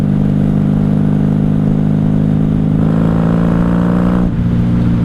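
A 1994 Honda Magna 750 VF750C motorcycle engine idles slightly high, running loud and steady, revving slightly higher midway before dropping back, heard up close with no talking.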